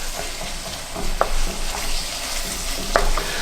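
Dorito beef casserole mixture stirred in a pan, a steady soft scraping and sizzling bed with two sharper clicks of the spoon against the pan, close and alone without speech.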